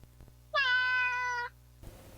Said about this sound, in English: yeah, a cat, okay?